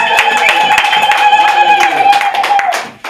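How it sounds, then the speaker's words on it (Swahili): A congregation claps hands at a revival seminar, a dense patter of claps running throughout over a sustained, steady tone, fading out at the very end. "Tumshangilie Bwana Yesu kwa makofi."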